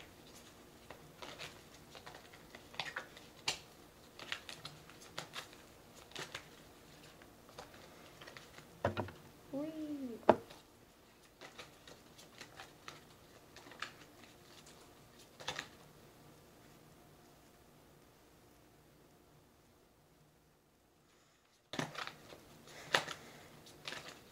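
Soft papery riffling and tapping of tarot cards being shuffled and cut, in scattered bursts with pauses, quiet and close, ending in a few sharper taps.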